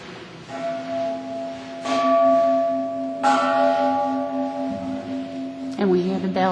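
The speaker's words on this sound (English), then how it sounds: "And we hear the bell." A bell rings inside San Miguel Mission, sustained ringing tones with repeated strikes swelling and fading over a steady room hum, fairly loud and close.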